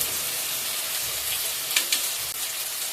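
Ground onion and ginger-garlic paste fry in a pan over low gas, a steady bright sizzle with a few faint scrapes of stirring near the end.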